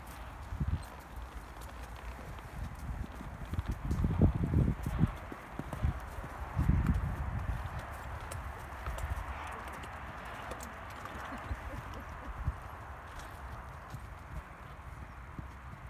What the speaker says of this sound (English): I'll play a little clip of me riding right now